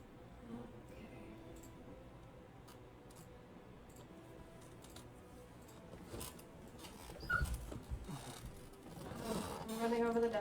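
A dog whimpers after being run over by a chair, its faint, thin whines rising near the end over a quiet indoor background.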